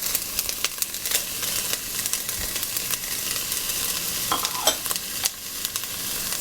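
Diced onion and carrots sauté in oil in a pot, giving a steady crackling sizzle with intermittent scraping taps of a utensil stirring, fairly close and unaccompanied by talk.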